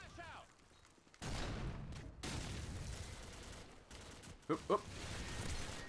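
Gunfire rattles in a video game in bursts of shots, loud and close. A voice shouts over it, and there is a short break in the middle.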